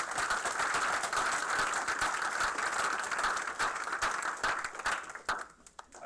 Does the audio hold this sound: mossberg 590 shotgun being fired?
no